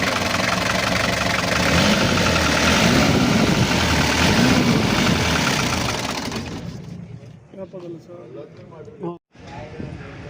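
A Toyota Hiace 110 diesel engine idles steadily with a broad rumble, while people talk loudly nearby; the noise drops away toward the end, leaving quieter background sounds.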